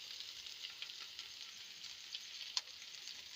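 Curry leaves and onion fry in a pan for rava bun dosa with a soft, steady hiss of hot oil and an occasional small pop, close but quiet, with no one speaking.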